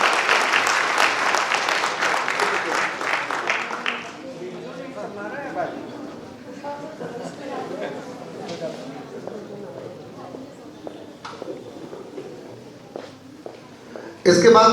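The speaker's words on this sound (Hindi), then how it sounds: "मैं चाहूँगा कि जोरदार तालियों से स्वागत करें।" An audience at a university prize ceremony in Jabalpur gives loud, dense applause that fades after a few seconds into the murmur and rustle of a hall, with scattered voices and a few late claps.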